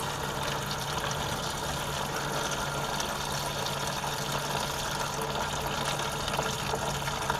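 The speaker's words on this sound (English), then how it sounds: "I'm going to unscrew this and let the rest of the radiator fluid come out. Let that drain into the pan." Radiator coolant draining from a 1991 Miata 1.6L into a pan, a steady faint trickle and splash that runs without a break over a low background hum, no talking.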